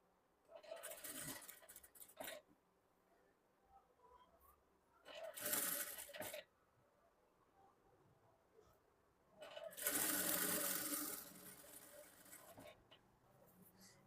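A sewing machine stitches a blouse in three bursts of whirring, each lasting a second or several, with quiet pauses between them.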